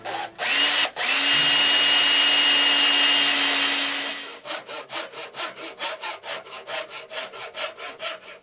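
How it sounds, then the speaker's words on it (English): A power drill whines steadily into a wooden support brace for a few seconds, then stops, followed by a series of rhythmic scraping strokes. "I'm just going to drill down into the support brace and then put a hardwood dowel"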